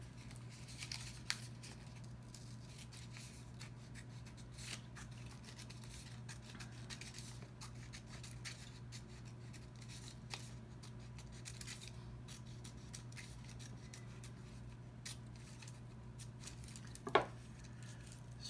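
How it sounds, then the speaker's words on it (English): Scissors snip around the edge of a paper strip, a quiet run of small cuts and crinkles over a steady low hum, with one sharper snip near the end and no talking. "I am going to cut the regular strip around its circumference close to the edge."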